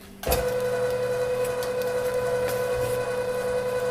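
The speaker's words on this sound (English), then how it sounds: "You don't have to push hard, let the grinder do the work." An electric meat grinder, switched on by foot pedal, grinds deer meat with a steady, loud motor hum and whine that starts abruptly and runs without a break, with no speech.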